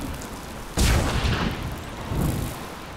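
Shot fired in the fantasy video game Enderal, a sudden loud blast followed by a rumbling decay and a second softer thump, with no talking.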